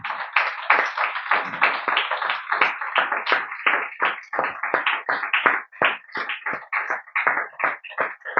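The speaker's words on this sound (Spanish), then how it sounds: "Vamos a darle un aplauso a Jesucristo" A church congregation applauds in a steady rhythmic clap, a crowd of hands striking together in quick repeated beats at moderate distance, with no talk over it.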